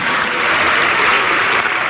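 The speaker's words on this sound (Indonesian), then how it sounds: "Kita tepuk tangan untuk semua penanya." An audience at a Christian apologetics question-and-answer session in Pekanbaru applauds the questioners, giving a brief, dense, even burst of clapping that is close and loud.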